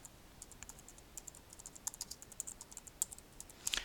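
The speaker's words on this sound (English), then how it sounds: "so I'll type that phrase in" Quick typing on a computer keyboard while a search phrase is entered into a library catalog, with light, irregular clicks and taps close by in a quiet room.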